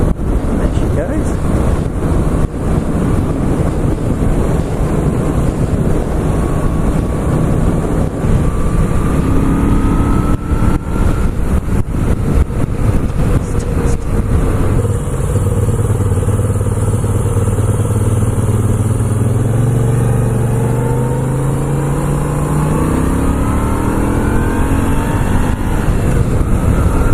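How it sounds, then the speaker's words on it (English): A warmed-up Moto Guzzi V7 II motorcycle engine runs steadily while being ridden, a loud continuous drone with wind rush and rising and falling pitch as it accelerates through gears. "Now this bike has warmed up, it feels far smoother. That engine feels a lot smoother now."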